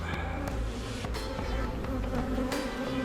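Honey bee swarm buzzing steadily at close range while a queen is introduced during beekeeping, a dense continuous insect hum with occasional soft handling knocks and no talk.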